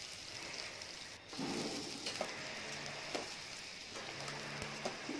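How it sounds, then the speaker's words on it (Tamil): Onions and fennel seeds sautéing in oil in a pan for a green chilli chicken fry make a soft, steady sizzle at low volume, with occasional faint spoon scrapes and taps throughout. "வெங்காயத்தை போட்டு கொஞ்சம் எண்ணெயிலே வதக்கி விட்டுக்கலாம்"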